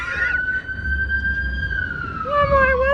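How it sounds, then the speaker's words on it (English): A wailing emergency siren sweeps slowly in pitch, clear and fairly close, over low night-time traffic rumble in West Los Angeles, with a second siren tone joining near the end. "That's why you guys hear the ambulance, helicopters, fire trucks all the time."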